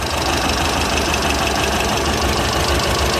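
Pinzgauer engine idling steadily with a close, continuous mechanical rumble and ticking as its dual carburetors are synchronized; no talk.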